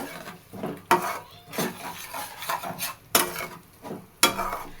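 Jackfruit curry paste being sautéed and stirred in a pan, giving a few sharp scraping knocks of the spoon against the pan over a soft, steady sizzle, with no talk.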